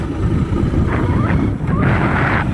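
Rushing water swollen by heavy monsoon rain roars at a glass bridge by Napne waterfall in Konkan, Maharashtra, a dense continuous wash close by with wind buffeting the microphone.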